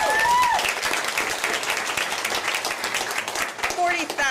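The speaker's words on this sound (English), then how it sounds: "I think we should cheer." Large crowd at a Michigan State University board meeting cheering and applauding loudly and steadily throughout, dense clapping with a few whoops and voices mixed in.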